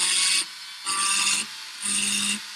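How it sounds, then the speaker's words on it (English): A ball burr in a rotary tool cuts a hammered texture into metal in three short, bright grinding bursts. Each burst lasts about half a second, with brief pauses between them, and the sound is close and clear with no talk. "So going back to a ball burr for the moment"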